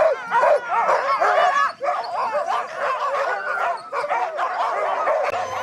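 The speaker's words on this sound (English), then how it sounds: "we met the dogs, all of them barking and yelping and striving to be off" A team of Arctic sled dogs barking, yelping and whining excitedly all at once, a loud continuous close-up racket of overlapping high-pitched cries with no pauses.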